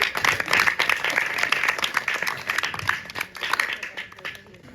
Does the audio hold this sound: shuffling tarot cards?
no